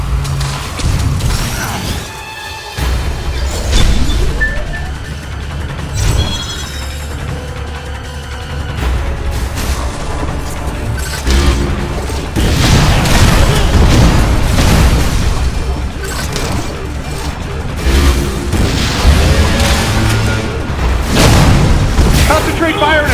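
Missile fire and explosions in the Metroid Other M game on Wii, with repeated heavy booms, bursts and mechanical clanks throughout, loud and dense, with dialogue voices mixed over the action.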